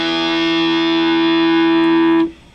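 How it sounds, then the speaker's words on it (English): Electric guitar through a Blackstar Stereo 10 amplifier on the Super Crunch setting, one distorted chord ringing with long sustain for about two seconds before being cut off, loud and close. "I'm using my Black Star Stereo 10 amplifier on the Super Crunch setting,"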